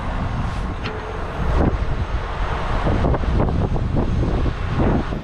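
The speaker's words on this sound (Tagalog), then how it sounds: "Lakas ng hangin." Strong wind buffets the microphone in a steady, loud roar with gusty surges throughout.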